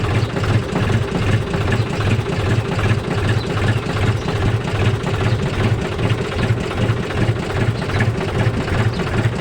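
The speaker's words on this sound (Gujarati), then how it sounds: "તો હાલો તો ભાઈ આપણે ટ્રેક્ટર જે કોલ્ડ સ્ટાર્ટ કરી લીધું હે" A tractor engine idles steadily just after a cold start, a loud, close, low rhythmic chugging with an even mechanical pulse running unbroken throughout.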